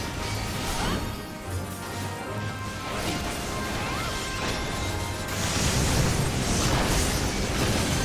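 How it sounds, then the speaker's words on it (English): Continuous crashing and booming explosions in Final Fantasy XIV battle, dense and rumbling, swelling louder toward the end amid busy combat effects. "those are gonna explode soon"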